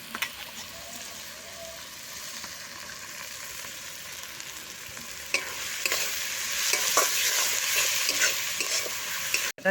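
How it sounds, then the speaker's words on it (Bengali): Onions sizzle steadily in a hot pan while a utensil scrapes and stirs, frying until browned, the frying growing louder and busier in the second half. "পেঁয়াজটা ভাজা ভাজা হয়ে এসছে"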